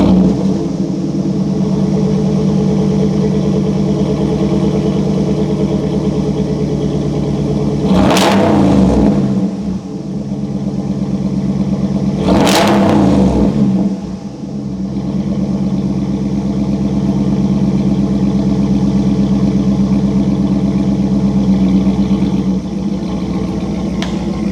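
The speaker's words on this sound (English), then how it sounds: "So you guys heard that cold start." A 2019 Ram truck fitted with an AWE 0FG exhaust idles steadily after a cold start, a deep continuous rumble with two sharp revs rising and falling, heard up close with no talk.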